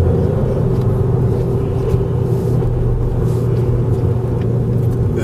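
Vauxhall Zafira accelerating, heard from inside the cabin as a steady low engine rumble and road drone without pauses.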